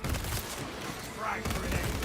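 A volley of gunfire rattles through a video game battle, a dense continuous burst of overlapping shots with a brief dip in the middle, loud and sustained under game voices.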